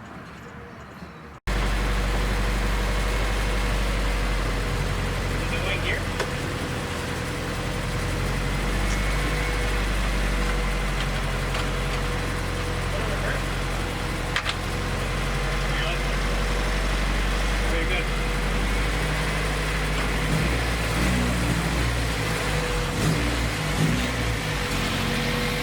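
A Honda Civic with a newly installed engine idles steadily, a constant low rumble close by and loud throughout, with people talking over it.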